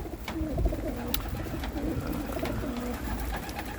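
Pigeons coo repeatedly in soft, low, rolling calls, with steady background noise throughout.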